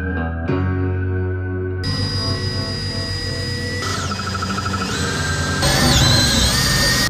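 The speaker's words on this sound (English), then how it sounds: "drilling into our bedroom" A power drill whirs into the bedroom wall of an RV, its motor steady at first and then climbing in pitch in several stepped bursts, loud and close with no talk.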